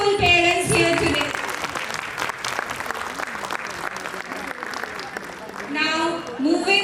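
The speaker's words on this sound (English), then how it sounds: "Let's take a moment to applaud all the wonderful parents here today." Steady applause from an audience at a kindergarten annual function, moderately loud and sustained, with a voice speaking at the start and end.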